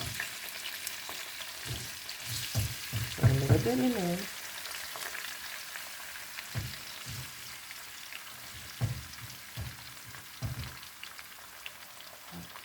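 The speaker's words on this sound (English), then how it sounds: "so they can start frying" Peppers sizzle in hot oil in a pan while making a sauce for Cajun fried fish, a steady crackling fry with occasional stirring clinks and someone briefly speaking.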